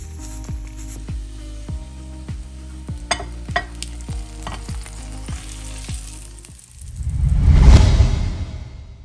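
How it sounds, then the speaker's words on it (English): Eggs sizzle loudly in a hot frying pan at breakfast, with steady crackling frying, a few scraping stirs, and a swelling hiss near the end. "For breakfast, I usually just make myself some eggs"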